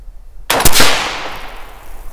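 A single loud rifle shot fired through a Ballistic Advantage premium fluted barrel cracks sharply after a quiet start, then rings off into a long fading echo.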